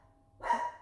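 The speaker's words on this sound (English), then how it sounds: "there go my dogs" Household dogs bark in a short burst midway through, fairly close and moderately loud, rising out of quiet room tone with a faint electronic hum beforehand.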